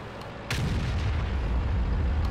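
A video game tank gun firing, a sudden loud boom that cuts in and then settles into a sustained low rumble and roar of battle noise with no talking.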